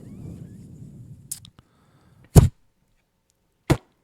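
A person imitates an archery effect with the mouth, an arrow loosing and striking a target, as a soft rustle followed by two sharp, short, isolated thuds in near silence.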